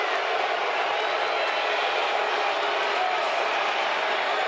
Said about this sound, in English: The boos cascading down from the Pocono race fans today.